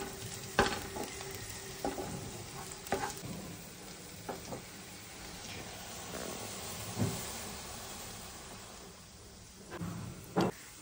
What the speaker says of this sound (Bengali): এবার আমি গ্রেট করা আদাটা দিয়ে আবার একটু ভালো করে নাড়িয়ে নেব